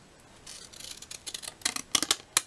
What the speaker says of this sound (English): now I'll demonstrate how to make the little zigzag lines with some scissors